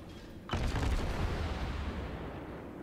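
Naval gunfire in the World of Warships video game: after a short quiet lead-in, a sudden heavy boom lands and leaves a rumbling, crackling tail that slowly decays, fairly close and without talk.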